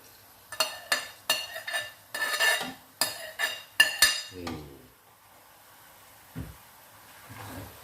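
A metal spatula scrapes and clanks repeatedly against a pan while glass noodles and carrot are stir-fried, a run of sharp close knocks in quick rhythm that tails off into quiet with one later tap.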